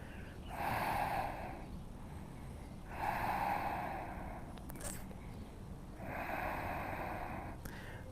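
Slow, deep yoga breathing during a legs-up pose, three long audible breaths a few seconds apart, close and airy, with a faint click between them and no speech.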